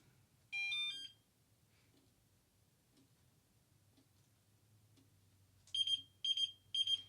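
A small electronic pager-type device gives short, high, bright beeps: a steady burst near the start, then three quick pulsed bursts at the end, loud and close over a quiet room.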